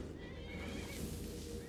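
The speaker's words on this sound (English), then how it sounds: "That horse just came all the way from the stables?" Horse in the video game Skyrim whinnying under a dense, loud wash of game noise and clopping, the neigh blending into the steady background.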